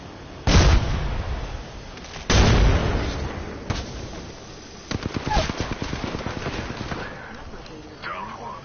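Two heavy, close blasts of a frag grenade going off in a multiplayer shooter game, the second about two seconds after the first, followed by scattered gunfire and softer in-game rattles.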